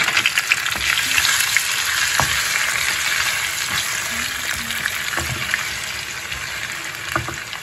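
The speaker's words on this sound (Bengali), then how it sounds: "ওই পনিরগুলো সামান্য একটু লাইট করে ভাজব।" Paneer pieces lightly frying in hot oil in a pan for a vegetarian peas and paneer curry, giving a loud, steady close-up sizzle with occasional stirring clicks and no talking.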